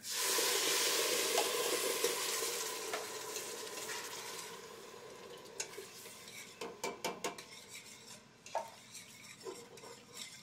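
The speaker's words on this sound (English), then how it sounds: "Once we've got a good saute on those ingredients, then we're going to add our coconut milk." Coconut milk poured into a pan of sautéed aromatics for khao soi, first a loud hissing sizzle that gradually settles, then a series of clinking stirs and scrapes of a utensil against the pan.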